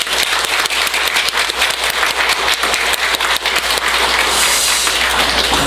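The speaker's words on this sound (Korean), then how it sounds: "이분들을 허락하신 하나님께 영광의 박수를 올려드리겠습니다" A church congregation at an ordination service breaks into sustained applause, dense rapid clapping filling the room at steady loudness throughout, with no speech over it.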